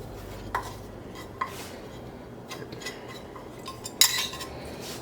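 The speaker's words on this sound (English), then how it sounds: "We're just going to put our filling into the mushroom caps." Spooning egg filling into mushroom caps brings light, scattered clinks of a metal spoon against a dish, a few sharper taps standing out over quiet kitchen background.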